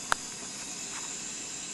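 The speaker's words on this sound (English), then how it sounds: "This is just space noise," Radio noise picked up by the Lovell telescope and converted into sound: a steady, even static hiss with one sharp click near the start.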